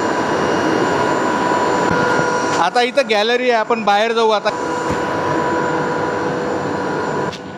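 A steady, loud mechanical drone with a tonal hum comes from large 250 HP water pumps running in a pump house over a lake. A person speaks briefly over it partway through.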